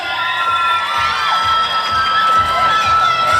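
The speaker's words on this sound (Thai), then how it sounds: "ขอเสียงปรบมือให้กับศิลปินดารานักแสดงทุกท่านหน่อยครับ" At the Kazz Awards 2017 ceremony, a large crowd cheers and shouts for the artists and performers, producing a loud, continuous roar with high excited voices and whoops.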